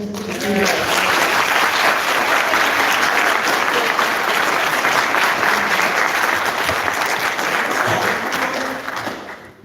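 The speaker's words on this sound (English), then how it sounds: "I want to invite you another round of applause" Dense, sustained audience applause fills a hall after a keynote at a Pittsburgh housing justice summit, loud and steady for nearly ten seconds before tapering at the very end.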